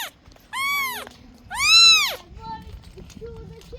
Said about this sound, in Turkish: arada bir çok kötü miyavlıyor ya